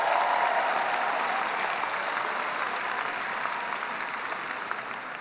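Graduation audience at the USC Marshall School of Business ceremony in 2019 gives a sustained, dense round of applause that stays loud and slowly tapers over several seconds, with no speech over it.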